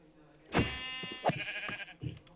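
A sheep bleats twice in Minecraft, wavering nasal calls close up, with soft background sounds between them.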